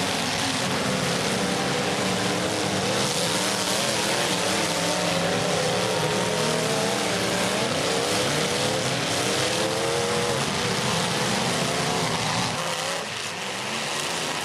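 Pro Lite demolition derby cars in a heat between NLR/Whittaker Salvage and Triple Threat roar with engines revving hard, a dense, loud and continuous wall of rumbling motor noise and crowd wash, with no separate crashes standing out.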